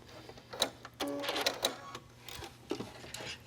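A sewing machine runs zigzag stitches back and forth on knit fabric for a cami tank top, making short, close mechanical whirring bursts with clicks between them.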